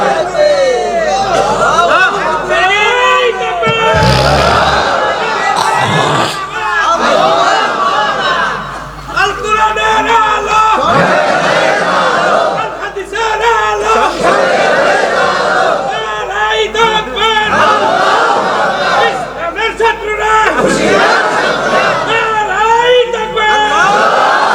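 A crowd at an Islamic religious gathering (mahfil) shouts the takbir chant in loud, repeated, swelling bursts of massed voices, with babble and cheering between the calls.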